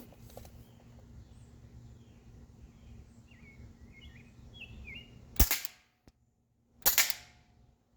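A Big Bang Airguns AK-74 BB replica fires at a can outdoors at about ten meters: two sharp, loud cracks a second and a half apart, with faint birdsong and quiet ambience between them.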